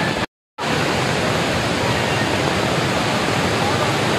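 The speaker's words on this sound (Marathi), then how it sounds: "समोर जबरदस्त असा धबधबा, प्रचंड पाणी पडाले" Kerle waterfall in heavy monsoon flow, a loud, constant hissing roar of falling water, close by, with one brief cut to silence near the start.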